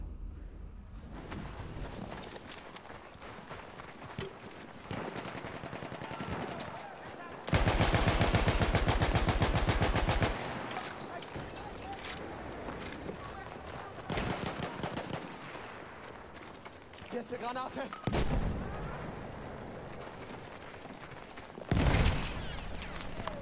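Shotgun and automatic gunfire ring out in the World War I shooter Battlefield 1, with bursts of loud blasts and rapid fire between sharp single shots, plus a speaking voice at times.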